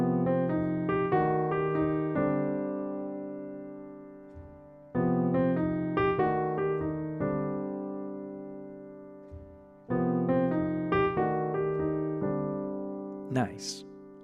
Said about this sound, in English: So I'm going to put my 2-5-1 underneath that, and it's going to sound something like this.